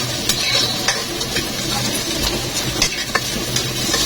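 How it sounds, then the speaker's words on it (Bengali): Pulao cooking in ghee with fried onions in a pan, a steady close sizzle with scraping stirs and occasional sharp utensil taps against the pot, with no talking. "আমি এখন ঘি দিয়ে পোলাও রান্না করতেছি।"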